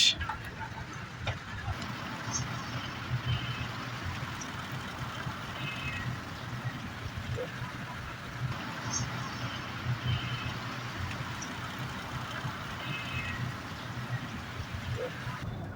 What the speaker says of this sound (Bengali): অবশেষে আমাদের বাস ধীরে ধীরে চলছে